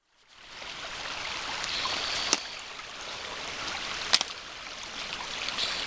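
Water running steadily over a beaver dam in a snowy cove, a continuous broadband rush and trickle at moderate level, with a couple of brief sharper splashes or knocks.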